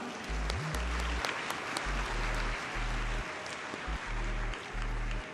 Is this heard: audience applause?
yes